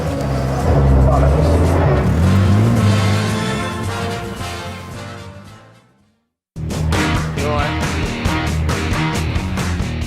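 Ford Escort Mexico rally car, a classic Mk1, driving with a loud, steady engine roar that cuts out briefly, then returns just as strongly, engine note rising and falling.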